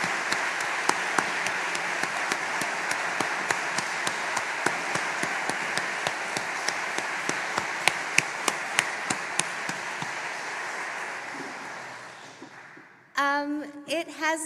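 Sustained applause from a conference audience for the organisers at an opening ceremony, a dense wash of clapping with sharper individual claps, fading out near the end before a voice begins speaking.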